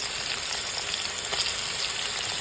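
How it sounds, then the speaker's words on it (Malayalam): Onions fry in hot oil for a beef curry, giving a loud, dense, continuous sizzle close up with no voices. "എണ്ണ ചൂടായെങ്കിൽ നമുക്ക് കുറച്ച് ഉള്ളി ഇട്ട് കൊടുക്കാം"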